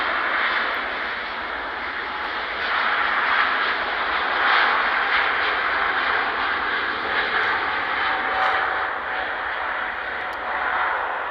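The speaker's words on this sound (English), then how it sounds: "EasyJet most definitely rejected the takeoff to Mykonos" An EasyJet airliner's engines roar steadily during a rejected takeoff at Manchester Airport, heard from a distance as a broad, continuous rumble with no break.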